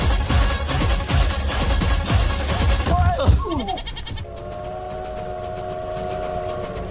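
A train rumbles with rhythmic clacking, then squealing metallic tones and a sustained horn-like hum as it slows.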